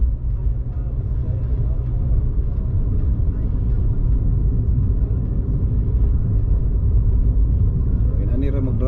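A car drives along a road in New Zealand, its deep engine and tyre rumble steady and loud from inside the cabin for the whole stretch.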